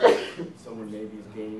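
A single sharp sneeze bursts out at the start, followed right away by someone speaking in a lecture setting.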